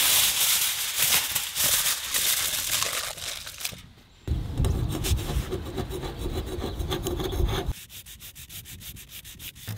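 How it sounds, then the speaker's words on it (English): Sandpaper scrapes paint on a narrowboat roof outdoors in close, repeated rubbing strokes, first in quick bursts, then a heavier stretch of scraping, then a run of fast short strokes, with no talk. "So I went around with a sandpaper and scraped stuff off."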